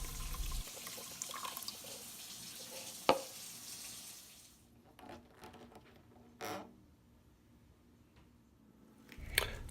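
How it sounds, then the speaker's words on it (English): Warm water pours steadily into a crock pot, a continuous close splashing stream that stops partway, followed by softer scattered drips, clinks and a final brief splash. "Now in a crock pot, pour some warm water"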